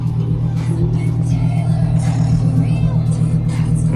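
A Lamborghini Huracan's engine rumbles steadily at close range with a deep, even drone as it drives away, while people talk over it.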